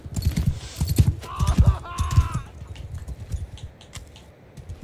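Hooves clatter in uneven bursts as horses move across a Mount & Blade Bannerlord II battlefield, with irregular thumping strikes that fade and thin out toward the end.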